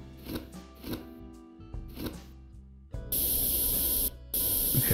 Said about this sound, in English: Have I just failed to spray it completely?